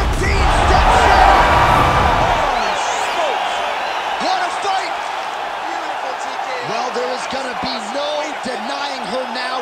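Arena crowd in EA UFC 5 roaring after a TKO finish, a loud cheering swell that gradually eases off, with sharp rhythmic thuds and whistles rising through the noise toward the end.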